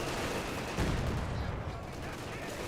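Mortar fire striking German Grenadiers in the strategy game Company of Heroes 2, a loud dense rumble of blasts and gunfire with a heavy thump near the one-second mark, continuous battle noise throughout.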